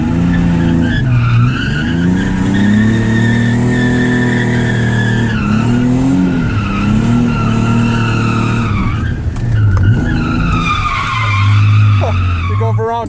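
A drift car at a grassroots skid pad event revs hard after a clutch kick, tires skidding and squealing in long sustained bursts as the engine pitch rises and falls, loud and close, with some talk mixed in.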